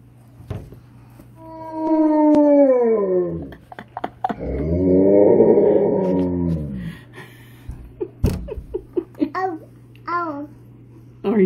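A Malamute howls in long, sliding, wavering tones close by, with a second drawn-out howl following, then shorter yips and growly vocal bits as a voice babbles and chatters alongside.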